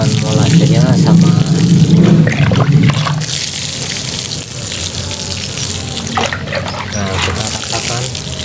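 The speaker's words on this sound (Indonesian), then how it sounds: "ini saatnya kita siram sampai merata ya untuk campuran molasenya" Plants are watered with a molasses fermentation mixture, a close, splashing stream of liquid that pours heavily at first then thins to a softer trickle, with a voice speaking over it.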